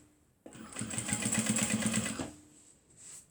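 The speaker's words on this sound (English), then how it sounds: "We will start stitching now." A sewing machine runs in one steady burst of about two seconds, stitching a foldover clutch purse with a rapid rhythmic whir, close and clear, starting abruptly and winding down.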